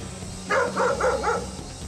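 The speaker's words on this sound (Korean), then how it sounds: "동네 개 짖는 소리에 덩달아 흥분한" Neighborhood dogs bark in a quick series of about four yappy barks at middle distance, rising over a steady low background hum, with no talk.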